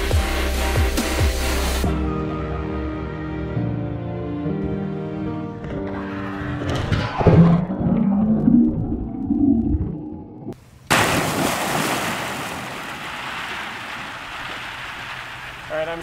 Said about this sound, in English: I'm gonna jump in and try to swim with them